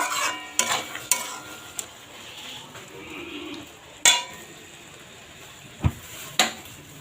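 A spoon stirs bottle gourd curry with lentil dumplings in a pan, giving a low sizzle broken by a few sharp scrapes and clinks against the metal, some spaced apart and some close together. No voices.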